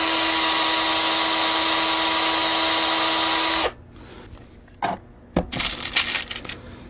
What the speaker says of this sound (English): drill the hole for the next screw